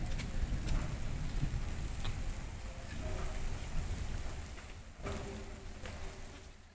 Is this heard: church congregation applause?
no